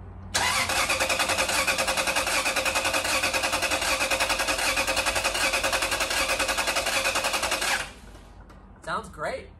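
A Lexus LS430 engine cranks over steadily without catching for about seven and a half seconds, a loud, rapid rhythmic churning of the starter that cuts off abruptly, followed by a couple of brief softer sounds.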